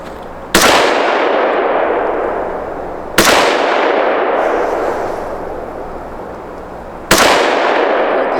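Three loud, sharp gunshots from an AR-180 series rifle on a shooting range, spaced a few seconds apart, each ringing out with a long decaying echo.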